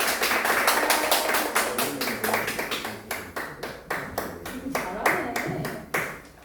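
A seminar audience claps in a steady, fairly even rhythm to welcome the host, the applause holding level and then thinning into separate claps toward the end.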